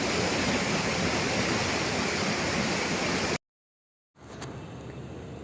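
Overflow water from the big lake at Kudligi rushes over the spillway in a dense, loud, continuous roar, which cuts out briefly and then resumes slightly quieter.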